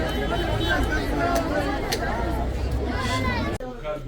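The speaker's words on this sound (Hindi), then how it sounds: "ये स्पिंक्स जाने के लिए इतनी भीड़ है यहाँ पर" Dense crowd chatter near the Sphinx in Cairo, many overlapping voices in a close, busy babble, with a speaker talking over it before it abruptly thins near the end.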